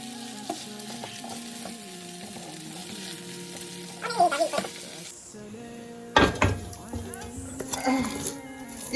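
Rice noodles sizzle in a small frying pan while a utensil scrapes and clatters against the metal in bursts, with a person talking over the cooking.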